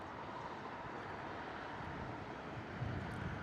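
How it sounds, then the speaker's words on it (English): An Airbus A380 departing Heathrow gives a steady, broad roar of jet engines with wind buffeting the microphone, loud and constant throughout with a slight swell near the end. "What a departure from the Airbus A380."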